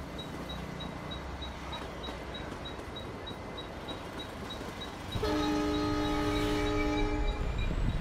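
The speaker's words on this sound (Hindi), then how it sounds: "ये फ्राइट ट्रेन यहाँ से निकलना स्टार्ट कर देती है" A freight train begins pulling out of a railway station in India, steady rumbling rail noise growing louder midway, with a sustained horn-like tonal sound joining the wagons' roll.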